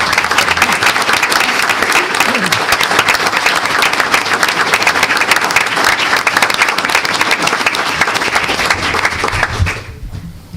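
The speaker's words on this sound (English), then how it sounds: "please stand while we give you a round of applause" Audience applause at a school district event honoring students, a steady dense wash of clapping from a crowd that holds loud and even for nearly ten seconds before tapering off at the end.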